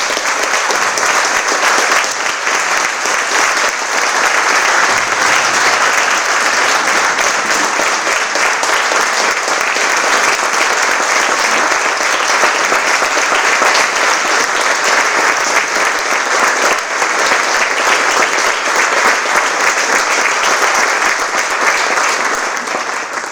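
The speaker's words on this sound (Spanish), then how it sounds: "vamos a pedir un fuerte aplauso para Antonio" Sustained, loud audience applause for Antonio, dense clapping from a large crowd holding steady for over twenty seconds without speech.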